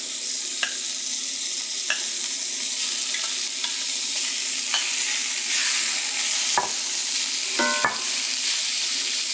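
Pork sizzles and fries in a heavy pan as a steady hiss, broken by a few scrapes and clinks as it is stirred, with no talking.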